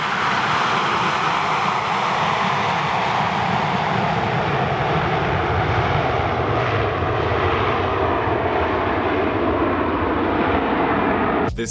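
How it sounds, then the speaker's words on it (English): A fixed-wing airplane drones loudly and continuously overhead, a steady broadband engine roar that fills the whole stretch without a break or any voices. "and the plane continued flying."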